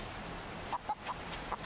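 Chickens cluck in short, separate calls around a rebuilt coop in the game 7 Days to Die. The calls are moderately close and sit over a steady ambient background.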